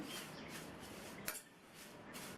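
Drumstick leaves roast in a pan over a medium flame, with faint dry crackles and utensil scrapes as the crisping greens are stirred, one sharper clink standing out midway.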